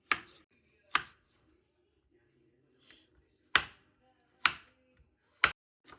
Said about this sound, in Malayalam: ഇനി ക്യാരറ്റ് കട്ട് ചെയ്തെടുക്കാം.